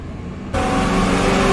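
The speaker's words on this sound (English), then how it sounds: "empty dump truck sounds and so on." An empty dump truck heard as a loud, steady engine drone that starts abruptly after a quiet half second and holds broadband, close and alone.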